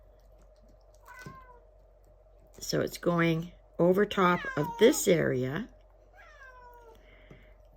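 A pet cat meows several times, short rising cries spread across the clip, partly overlapping a woman's nearby speech in a quiet indoor room.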